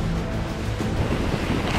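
Ocean waves rushing around a racing yacht at speed in the Indian Ocean, a continuous loud wash of surf and water mixed with strong wind buffeting the microphone, with no pauses.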